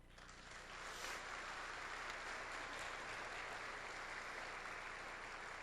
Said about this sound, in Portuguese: Se você crê nisso, aplaude o Senhor.